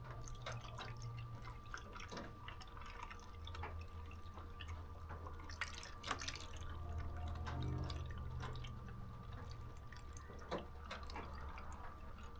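Water trickles and drips from a measuring jug into a Ninja slushie machine, with scattered splashes and a brief fuller pour in the middle, heard alone and fairly faint.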